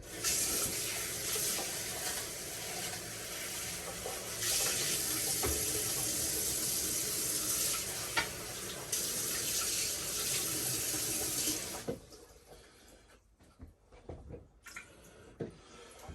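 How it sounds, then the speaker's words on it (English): Rinsing with water from a tap, a steady close gush of running water for about twelve seconds that then stops, followed by quiet drips and handling sounds. "let's just give it a rinse"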